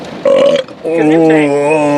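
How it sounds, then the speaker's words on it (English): A loud, drawn-out voiced burp from a person, close up, with a short break partway through before it carries on. "That burp was an act of God right there."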